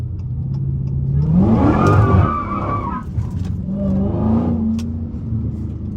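A Dodge Hellcat SRT drifts through a corner, its engine revving hard as the tires slide and squeal, the roar swelling, dipping, then rising again for a second slide, close and loud, with no talking.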